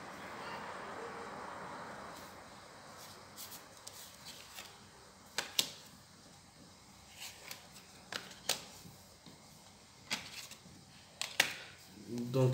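Tarot cards shuffled and drawn by hand, quiet scattered flicks and snaps of card stock spaced irregularly over a soft room background, close and faint.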